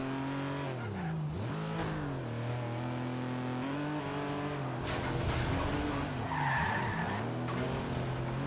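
Car skidding in the video game Forza Horizon 2, a steady loud engine drone with tyre scrub swelling midway and a harsher burst of noise near the end as the car flips over.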